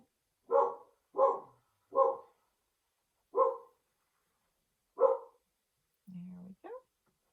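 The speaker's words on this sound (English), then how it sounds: "And that would be my dog." A dog gives five sharp, evenly spaced barks, close and loud against near silence, then lets out a short, lower whine and yelp.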